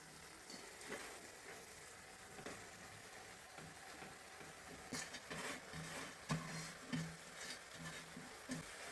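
Cooked rice is stirred into sizzling masala in a pan for chitranna, a soft continuous fry with scraping and stirring strokes that grow busier and louder toward the end.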